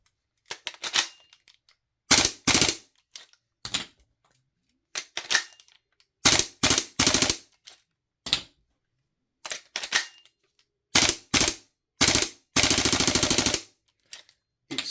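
A Guns Modify Evo stainless bolt cycles in an empty Tokyo Marui MWS airsoft rifle, making sharp metallic clacks in quick bursts and short rattling runs separated by silences, close and crisp.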